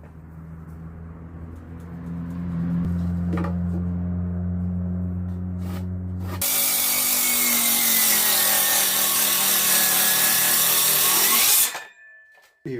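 A board being cut to length for a homestead garden bed, first with a low machine hum, then a loud, steady power-saw whine that runs for several seconds before cutting off abruptly.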